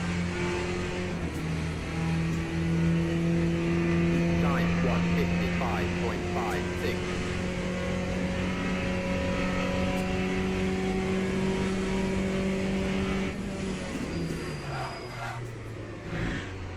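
A race car engine in a racing video game, a steady mid-level drone that holds its pitch, then drops off as the car slows, with someone talking over it.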